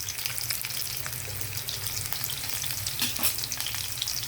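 Garlic sizzling steadily in hot oil in a pan, a constant crackling fry with faint stirring or clinks, no voices.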